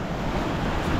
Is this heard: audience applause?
no